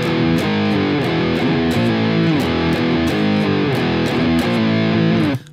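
Heavily distorted electric guitar plays a riff at a faster tempo, loud and unbroken with regular accented hits, stopping suddenly at the end.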